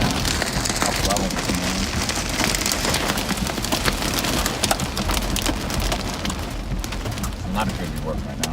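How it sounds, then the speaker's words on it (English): Heavy rain mixed with soft hail pounds a surface during a Midwest storm chase, a dense, loud, unbroken drumming that holds steady throughout, with faint voices underneath. "Hey, that rain is heavy. Yeah. This is kind of soft hail."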